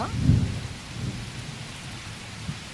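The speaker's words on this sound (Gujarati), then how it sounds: "કડાકો બોલ્યો હો।" Heavy rain pours steadily over a flooded farm plot, and a deep, rolling thunder clap booms near the start before fading into the continuous wash of rainfall.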